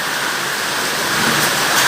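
Heavy rainstorm in northeastern Brazil, with hail and strong wind: a dense, steady roar of pouring rain, close and loud, holding constant and swelling slightly toward the end, with no talk.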